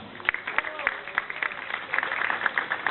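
Applause rings out for youth football teams at the opening ceremony of a tournament in Radymno, steady distant clapping from a crowd running beneath an announcer's amplified voice.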